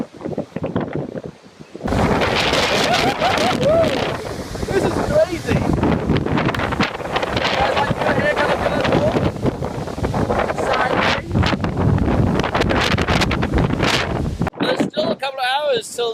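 Storm wind roars and buffets the microphone in a loud, nearly continuous rush, with gusty surges and broadband noise suggesting rain and weather, while people shout and talk over it; it drops off abruptly near the end.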